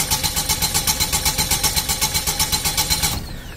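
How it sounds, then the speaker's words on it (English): An Onan diesel generator, struggling in cold weather, runs with a rough, rapidly pulsing engine beat that stays loud and steady before cutting out near the end. "If I keep repeating that starter several times, 3-4 times, then my generator will eventually start, do a very rough idle and run."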